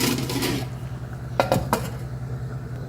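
A few sharp metallic clinks of a lid settling onto a pot of simmering fish curry, close by, over a steady low kitchen hum.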